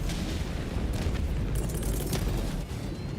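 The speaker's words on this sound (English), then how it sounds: "Throwing grenade." A grenade detonates in Helldivers 2 on a Helldive difficulty 9 mission, giving a loud, sustained booming rumble with scattered crackling bursts in the din of combat.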